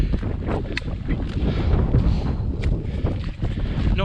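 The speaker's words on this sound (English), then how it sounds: "Sorry about the wind." Wind buffeting a microphone outdoors on a walking route in the Scottish Highlands, a continuous loud low rumble with gusty surges and no speech.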